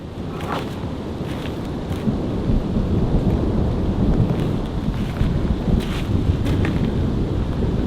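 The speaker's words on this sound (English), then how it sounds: "That is long thunder." A long, deep rumble of thunder rolls on for several seconds and swells midway, with rain and wind buffeting the microphone outdoors.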